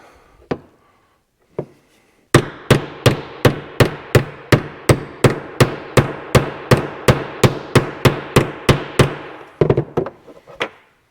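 A socket is hammered against a PTO seal on an IH 1086 tractor during a PTO rebuild. Two light tentative taps come first, then a steady run of about twenty sharp, evenly spaced metallic blows, close up and loud, ending in a few quicker knocks.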